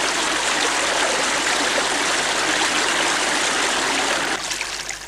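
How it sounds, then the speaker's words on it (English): Water flows in Lilla Creek as it spills from a mountain lake, a loud, close, steady rushing babble that eases slightly near the end, with no voices. "Pat stops to enjoy a cool drink from Lilla Creek, which overflows from the lake."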